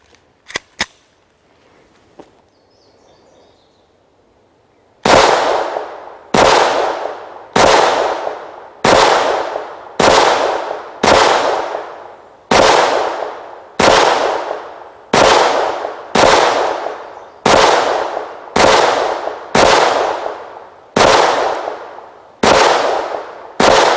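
A Taurus TX22 .22 pistol firing Winchester small-game plinking rounds at a range: after a few seconds of near quiet, about sixteen sharp, close, evenly spaced shots ring out one after another, each with a short decaying tail.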